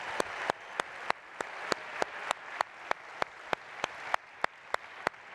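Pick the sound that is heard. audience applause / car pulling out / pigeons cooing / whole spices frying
audience applause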